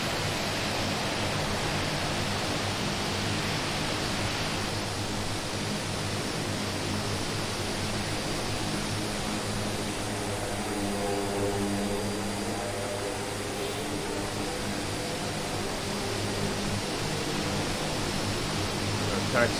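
A DHC-6 Twin Otter taxis in a flight simulator, its twin propeller engines making a steady broadband roar with a low drone, continuous and even.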